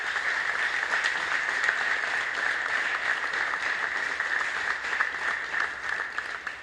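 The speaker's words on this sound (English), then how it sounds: "Give these guys a big round of applause again" A crowd claps steadily at a ceremony where local fire departments receive checks, a dense even roar of applause that holds throughout and fades slightly at the very end.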